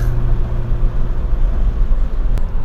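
Engine of a 1989 Honda Prelude running with its intake wound up, a loud, close, steady droning hum with a low tonal resonance and little change in pitch.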